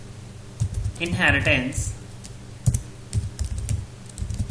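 Keystrokes on a computer keyboard tap out a project name, soft clicks scattered under someone speaking throughout.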